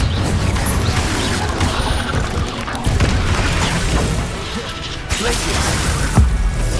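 Confringo spell explosions in Hogwarts Legacy, heavy booming blasts and crashing impacts layered over continuous loud combat noise, with a sharp hit near the end.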